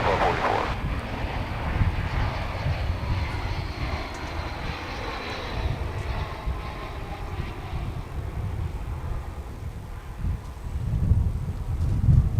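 An Airbus A320 airliner, flight 2961 from Milwaukee, roars steadily at a busy airport, with broadband engine noise swelling toward the end, under occasional talk and wind buffeting on the microphone.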